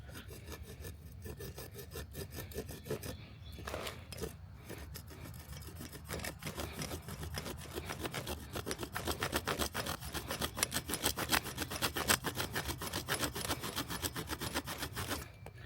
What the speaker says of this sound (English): So it is sawing.